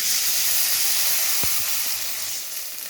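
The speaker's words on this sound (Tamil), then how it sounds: "இப்போ ரசத்தை தூக்கி ஊற்றிக்கலாம்." Mudakathan keerai rasam is poured into a hot pan and sets off a loud, steady sizzle and hiss that fades slightly toward the end, with no voices over it.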